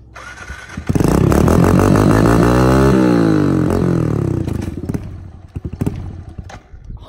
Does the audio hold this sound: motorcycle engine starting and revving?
yes